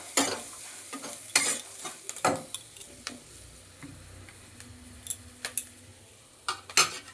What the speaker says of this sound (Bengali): একদম লাল লাল করে ভেজে নেব ম্যাগিটাকে